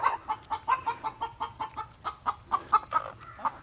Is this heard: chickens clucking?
yes